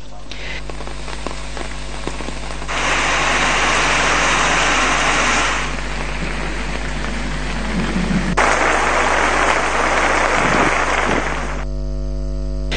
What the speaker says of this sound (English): heavy rains were also experienced in Kantale today